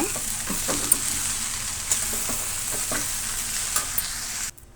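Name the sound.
grated coconut frying in pan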